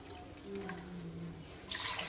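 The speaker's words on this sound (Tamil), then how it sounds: "அந்த மிக்சி கழுவின தண்ணியெல்லாம் ஊற்றிக்கலாம்" Rinse water from a mixer jar poured into a cooking pot of rice and lentils for bisi bele bath, a steady liquid splash that grows louder and brighter toward the end, with no talk.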